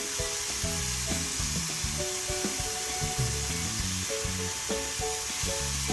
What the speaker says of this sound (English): Let it saute for a few seconds and then go ahead and add the garlic